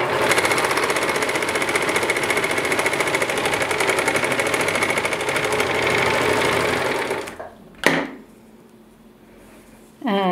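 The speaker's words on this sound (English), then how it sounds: "Sew and cut at the same time." A serger-style sewing machine sews and trims a seam at the same time, a loud, fast, steady mechanical whir for about seven seconds before it stops, followed by a sharp snip and quiet handling.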